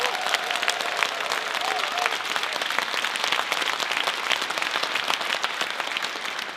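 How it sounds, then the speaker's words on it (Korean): Audience applause for the K-Philharmonic Orchestra and its conductor at a New Year's Eve concert, a dense, steady wash of many hands clapping throughout, with a faint voice briefly audible early on. "큰 박수 부탁드립니다"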